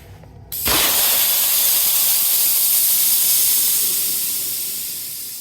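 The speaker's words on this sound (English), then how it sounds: "Next step, we're going to remove the air compressor hose from the attachment." Pressure vents from a secondary-water sprinkler system as the air compressor hose is pulled off its attachment: a sudden loud, sustained hiss of escaping air that starts abruptly and slowly fades, close and with no talking.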